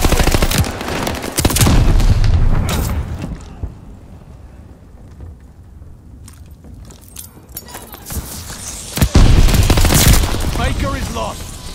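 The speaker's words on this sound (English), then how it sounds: "Friendly sending a glide bomb." Heavy explosive blasts and bursts of gunfire from a glide bomb strike and fighting in Call of Duty Vanguard come in two loud waves, with quieter rumbling between them and game voices speaking.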